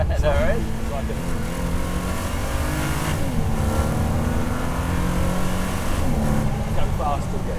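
A Ford GT supercar accelerates in first gear, its engine rising in pitch in several revving pulls with gear changes, heard from inside the cabin under ongoing conversation.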